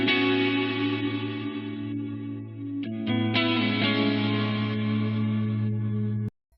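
Electric guitar playing a recorded track drenched in reverb, sustained notes with string bends around the middle, loud and steady throughout before cutting off abruptly near the end.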